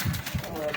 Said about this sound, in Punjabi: ਨਿੱਕਾ ਜਿਹਾ ਕਬੂਤਰ ਜੇ ਵੇਖੋ,